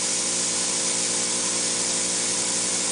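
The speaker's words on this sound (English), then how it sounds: "The type of a gun that he's using is actually a flex head pole gun" A flex head pole spray gun hisses steadily as it sprays hot pipe coating, a dense continuous broadband spray noise, loud and close, with no talk.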